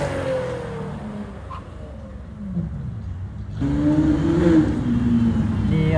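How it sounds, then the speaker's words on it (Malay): Lamborghini Revuelto 12-cylinder engine revving on a Genting mountain road, a rising and falling engine note growing louder as the car approaches, with faint voices in the background. "Dengar 12 silinder situ."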